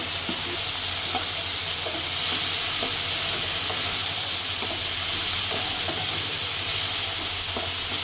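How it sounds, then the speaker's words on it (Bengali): Vegetables fried in a pan with chili powder, salt and turmeric: a steady loud sizzle with regular scraping clicks from stirring, close up and without speech. "মরিচের গুঁড়া দেওয়া হচ্ছে এখন লবণ আর হলুদের গুঁড়া দিয়ে সব কিছু মিশিয়ে নেব"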